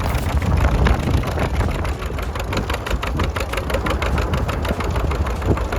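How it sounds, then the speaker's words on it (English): A late-styled antique John Deere Model A tractor pulls a Model 4B moldboard plow at a national plowing contest in Arlington, South Dakota. Its engine drones steadily and loudly throughout with a rapid, even pulsing beat. "Corey Gehring of South Dakota coming with a sharp, late-styled A pulling his John Deere Model 4B plow"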